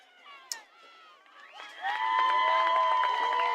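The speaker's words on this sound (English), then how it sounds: "their fans in the stands, cheering, parents, friends, and fans alike, cheering them on" Fans in the stands at a women's college soccer district championship cheering, with high shrill screams and shouts swelling into a loud, sustained crowd roar after a quieter start.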